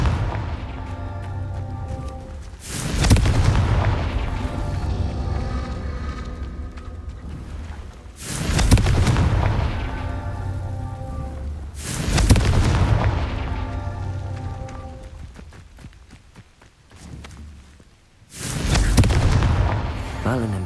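The Confringo explosion spell in the Hogwarts Legacy video game goes off four times, each a heavy, loud boom with a long rumbling decay, spaced several seconds apart.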